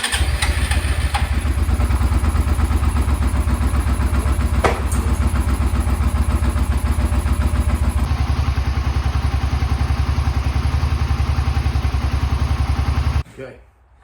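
A Suzuki SV650, reassembled after sitting for six years, cranks on the starter without catching, a fast even churning pulse held for about thirteen seconds before it cuts off abruptly.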